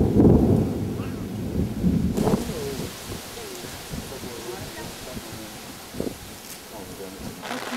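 Steady rain hisses and patters throughout at outdoor ruins in Guatemala while people talk nearby, with a deeper rumble near the start.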